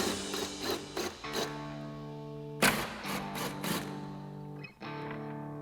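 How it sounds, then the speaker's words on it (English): Screws are removed from the tail light of a 2021-2025 Ford Bronco with an 8 mm socket. A close, whirring mechanical whine comes in several bursts, with a couple of sharper clicks between the runs. "Next, we'll grab our 8 millimeter socket and remove the 2 remaining screws."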